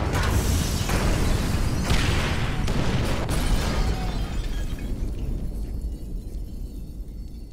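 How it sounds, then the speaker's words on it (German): Firebombs detonated by phone in the video game GTA 5 go off as a loud, sustained explosive roar with several rumbling bursts. The roar slowly fades as debris and rumble die away. "Da hat's richtig Rums gemacht."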